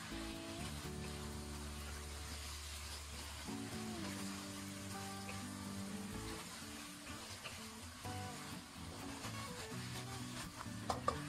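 Cabbage stir-fried in a wok after a seasoning sauce is added, giving a soft, steady sizzle with occasional scraping stir strokes near the end, fairly quiet, accompanied by a low background hum and no talking.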